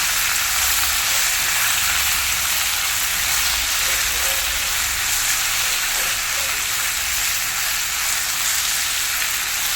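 Pieces of ripe jackfruit sizzle in melted ghee, a loud, dense, steady frying hiss that runs unbroken throughout with faint stirring beneath.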